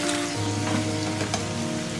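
Boiled macaroni stirred in a hot pan for Pakistani-style chicken tikka macaroni gives a steady, close sizzle, with faint scraping as it is mixed.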